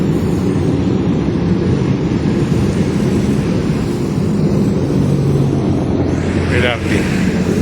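An LRT light rail train passes near the Pasig River esplanade at Arroceros Park in Manila, a loud, steady rumbling roar with low mechanical hum blended into busy outdoor city noise.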